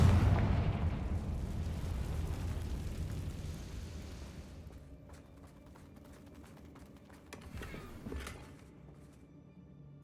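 Confringo blasting spell in the video game Hogwarts Legacy: a loud, deep blast at the start rumbles and fades over several seconds, followed by faint scattered game sounds and light clatter.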